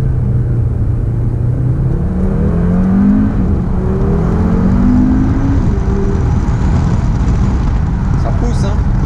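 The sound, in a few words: Audi RS Q3 engine accelerating, paddle-shift gearbox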